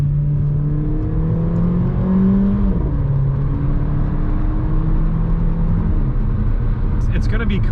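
An SUV crossover accelerates at full throttle after a series of downshifts, its engine droning steadily with rising and falling pitch under continuous loud road and cabin noise, while people talk over it inside the car.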